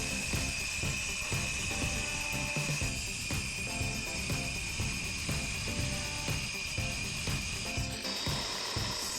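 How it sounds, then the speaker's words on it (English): A large angle grinder with a diamond stone-cutting disc cuts a stone garden path, giving a continuous loud high-pitched whine with gritty, pulsing grinding texture close by throughout. "I used my large angle grinder with a diamond stone cutting disc"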